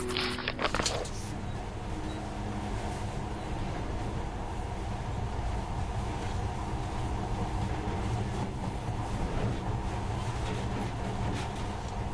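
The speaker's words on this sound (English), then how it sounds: "In the past, trains were ordinary things. But now, this monorail seems magic, doesn't it?" Monorail train running in a video game, a steady broadband rumble and rolling hum that stays constant throughout, close and moderately loud, with a brief higher burst at the very start and no talking.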